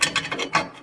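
A ratchet clicks in several quick rhythmic bursts as a Tacoma suspension control arm is bolted up with the stock bolt, close and moderately loud, with no talking.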